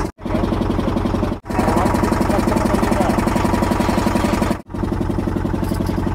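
A boat engine runs steadily on the Ganges at Varanasi, a loud, close, rhythmic chugging drone that drops out briefly twice before resuming.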